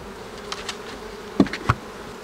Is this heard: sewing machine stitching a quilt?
no